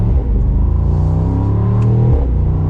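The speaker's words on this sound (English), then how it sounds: "You can hear that exhaust rumbling here." A 2022 Mercedes-Benz SL63 Roadster's exhaust rumbles steadily and loudly from close by, a deep continuous drone that swells slightly near the end as the car pulls out into traffic.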